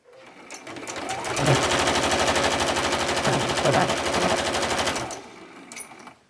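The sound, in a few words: sewing machine stitching a seam with back stitch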